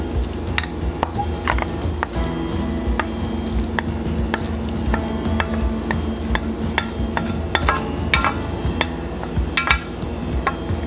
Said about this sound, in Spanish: vamos a proceder a mezclar la cebolla, los pimientos, la seta